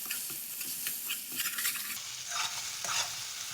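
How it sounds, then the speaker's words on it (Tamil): Pepper chicken frying in a pan while being stirred, Chettinad style: a steady close sizzle with repeated scraping stir strokes, no talking. "சுருள நல்லா கிளறி விட்டுக்கோங்க"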